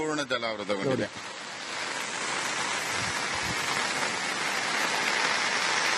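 Steady, heavy monsoon rain in Kodagu, Karnataka hisses continuously after a brief burst of talking at the start, filling the scene with a dense, even wash of sound.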